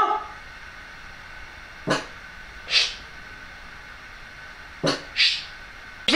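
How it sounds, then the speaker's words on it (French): A guard dog barks four separate times, single sharp barks spaced a second or more apart, moderately loud against a quiet indoor background with no talking. "Tu vas arrêter d'aboyer."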